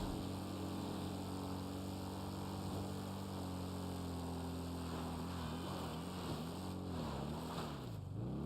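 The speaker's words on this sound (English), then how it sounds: "Let me take one of the helicopters" Helicopter in GTA Online, its engine and rotor giving a steady, loud droning hum that holds throughout, with pitch wavering and dipping near the end as the aircraft maneuvers.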